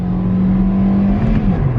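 A Kia Rio rental car in Cyprus strains near its rev limiter during a hard launch, a loud sustained engine drone from inside the cabin with no talking.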